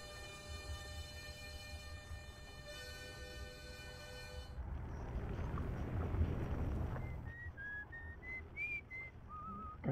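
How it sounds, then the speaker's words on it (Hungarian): In the video game Outer Wilds, an old man whistles a short melody of rising then falling notes, entering after several seconds of windy rumble and a low hum and carrying on over the lingering wind. "Öreg meg itt fütyül"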